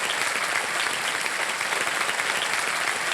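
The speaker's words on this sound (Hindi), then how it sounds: "और तालियों के साथ इनका स्वागत हो जाए जोरदार" A studio audience at the KBC game show claps in steady, dense applause, loud and unbroken for the whole stretch, with no voices standing out.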